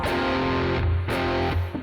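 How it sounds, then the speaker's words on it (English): Electric guitar on a distortion setting playing a classic hard rock riff, thick sustained chords struck roughly every three quarters of a second, loud and close with no talk. "Classic hard rock guitar, distortion setting"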